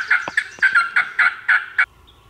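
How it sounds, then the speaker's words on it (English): Wild turkey gobbling in spring turkey season, a clear rapid string of rattling gobble notes lasting about two seconds from a bird at moderate distance, followed by quiet. "Just gobble every now and then."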